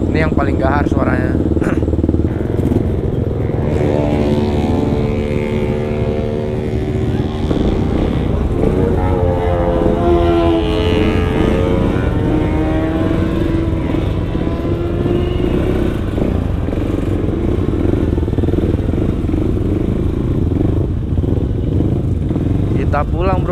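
Supermoto motorcycle engine roars steadily on a late-night ride near Lembang, a loud continuous drone with rising and falling revs and wind noise, with a rider's voice over it.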